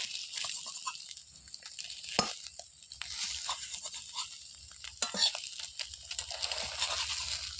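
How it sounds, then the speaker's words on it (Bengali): Soft sizzling and scraping from a pan as beaten egg fries into an omelette, with a few sharper clinks of a utensil, fairly quiet. "এবার ডিমটা দিয়ে দিলাম এবার অমলেটের মতন ভেজে নেবো"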